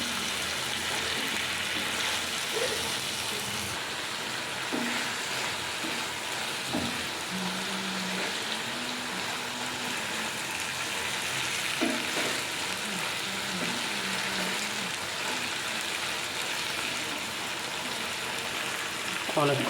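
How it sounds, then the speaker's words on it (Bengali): Chillies and dried fish fry together in oil in a continuous, moderately loud sizzle, broken by occasional soft knocks and scrapes as the mixture is stirred. "মরিচ এবং শুটকি একসাথে ভেজে নিচ্ছি"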